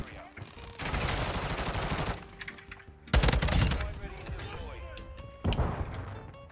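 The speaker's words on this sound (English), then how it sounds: "I'm gonna take him out with my pistol." Pistol gunfire in a video game rings out in three loud, rapid bursts with gaps between them, fairly close, while a voice talks alongside.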